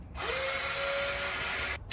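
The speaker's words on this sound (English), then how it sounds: "I'm gonna put this little drill bit on just to start the pilot" A power drill drilling a pilot hole with a small bit whirs steadily for nearly two seconds, a rising motor whine held at a constant pitch, then stops with a brief final burst.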